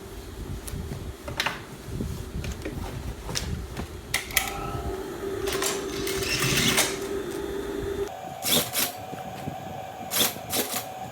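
A sewing machine hems a folded trouser leg in quick bursts of rapid mechanical stitching, close and moderately loud, separated by short pauses and handling clicks, with no talk.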